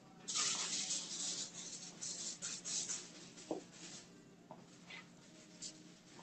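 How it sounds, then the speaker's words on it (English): Several short hissing spritzes of hair product from a spray bottle during a haircut, fairly quiet, with faint rustling and brushing sounds between them. "I'm allowed to kind of like spray it like a hairspray as well"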